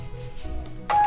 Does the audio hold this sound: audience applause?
no